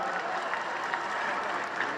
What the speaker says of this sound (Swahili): Tumpe makofi Jump Master.